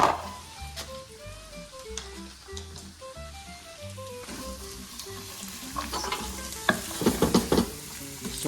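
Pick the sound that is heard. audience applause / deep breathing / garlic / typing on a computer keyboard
garlic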